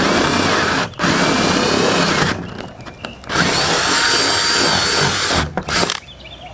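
A power drill whirs loudly in several sustained bursts with short pauses between, drilling holes in corners during a johnboat-to-bass-boat conversion, close up and without talk.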